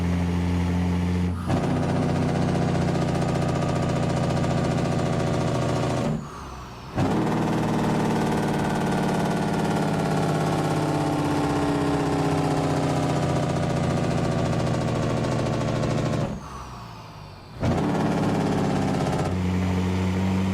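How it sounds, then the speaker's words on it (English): Truck engine brake in American Truck Simulator on a customized Peterbilt 389, a loud, steady low mechanical drone that holds for long stretches and cuts off briefly twice before resuming. "I'm gonna get them Jake brakes rolling here in a second."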